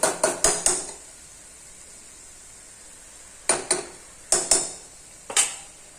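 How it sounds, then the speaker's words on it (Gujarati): A spoon clatters against a pan while stirring Kathiyawadi-style okra (bhinda) curry, giving quick bursts of three or four sharp metallic scrapes and clinks, then a pause, then more scattered clinks. "પછી પાછું આમ હલાવી લેવાનું એટલે શાકમાં સરસ મસ્ત સુગંધ આવશે"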